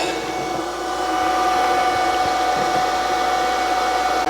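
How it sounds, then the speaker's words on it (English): An air hose blows off parts on a 2014 GM truck during a brake-cleaner cleanup, giving a loud, steady, close rushing hiss that runs without a break throughout. "I'm going to get some brake cleans and an air hose and blow this off."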